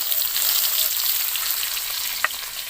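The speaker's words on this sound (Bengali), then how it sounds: "তো ওই মাছ ভাজার একই তেলের মধ্যে আমি কাঁচা আমগুলো একটু ভেজে নেব।" Raw small mango pieces frying in the same oil used for frying magur fish, a steady close sizzle with one soft knock near the end and no talking.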